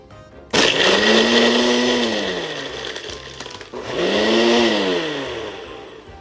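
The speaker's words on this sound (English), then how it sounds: "We blend the drinks for about 30 seconds, and then we stop even though it sets up for 50" A Ninja blender whirs through a frozen mocha drink with ice, starting abruptly and running loud and close with a rising-and-falling motor pitch, dipping briefly before surging again.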